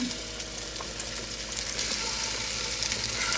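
Ground beef meatballs sizzle and crackle steadily in a hot frying pan, a dense, close hiss that grows slightly louder partway through.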